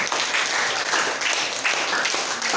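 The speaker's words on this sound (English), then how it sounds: "The students are clapping their hands." A class of schoolchildren claps together in steady, sustained applause, the noise dense and fairly loud throughout with brief dips between bursts.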